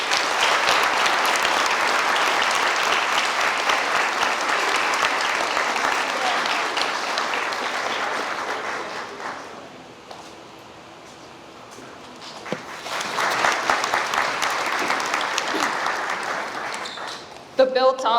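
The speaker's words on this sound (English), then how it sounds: "So let's give them a big round of applause." An audience at a 2022 senior awards ceremony claps for award-winning high school seniors, loud sustained applause that thins out midway, then swells again with scattered cheering.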